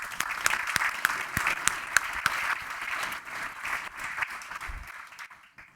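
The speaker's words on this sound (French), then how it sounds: "Vous pouvez les applaudir." Audience applause for speakers called onto a stage at a business event, a crowd clapping steadily with a few sharp individual claps standing out, tapering off near the end.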